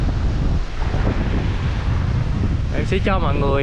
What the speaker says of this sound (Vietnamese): nghe cái tiếng sóng rì rào ở khúc chỗ này, rất là êm đềm luôn